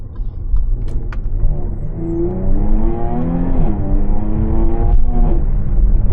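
A Jaguar F-Type fitted with a GOPedal throttle controller pulls away from a dead stop, its engine note climbing in pitch through a rising, loud rev with a brief dip and shift before building again, close to the car, no talking.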